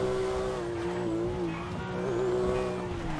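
Car engine hums steadily with a sustained tire squeal as the car skids through a turn in GTA 5, a constant whining tone that wavers slightly, with no talking.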